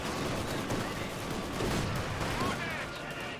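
Riflemen's rifle fire in Company of Heroes 2, a continuous dense wash of distant battle gunfire with overlapping shots and no clear pauses.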